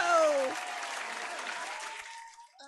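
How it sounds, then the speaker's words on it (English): Crowd applause for improv comedy performers at a livestreamed show, opening with a brief voice or cheer, then a broad wash of clapping that holds steady and fades near the end. "Give them a big round of applause at home."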